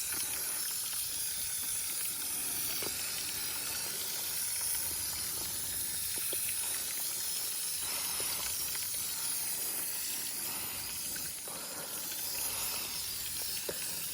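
Steady broadband hiss of a spray gun laying paint on a boat hull, continuous and close for the full stretch with small fluctuations and no talk.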